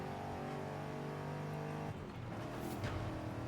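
An Aston Martin engine in a racing video game holds a steady, loud drone that dips and shifts near the end, as if the car changes gear or speed.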